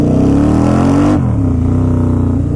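A Harley-Davidson V-Rod motorcycle engine revs hard and high, its steady loud drone climbing in pitch before easing back to a lower rumbling idle, close and with no talking.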